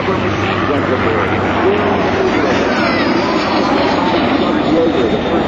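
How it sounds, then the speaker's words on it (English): A P-51 Mustang warbird at the Jones Beach airshow climbs overhead as the pilot pulls back, its engine a steady, broad roar heard from a distance under a constant crowd-and-wind wash, with voices talking throughout. "Look at that Mustang climb now as it pulls, the pilot pulls back on the stick"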